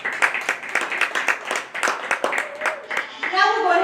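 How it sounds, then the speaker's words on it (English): An audience at a county fair dairy goat show claps in a burst of applause, rapid scattered hand claps filling the space while voices chatter beneath and an announcer starts speaking near the end. "So let's give him a big round of applause."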